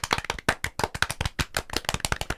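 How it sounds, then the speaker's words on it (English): A small group gives a round of applause, with brisk, uneven hand claps continuing for a couple of seconds at close range, with no one speaking. "So I just want to have a little round of applause for Toby because"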